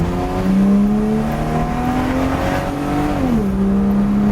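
Engine of a BMW E30 with a ZF 4HP22 automatic gearbox revving hard under acceleration, a loud steady rising drone that climbs, dips briefly at a gear change, then holds, with no talk.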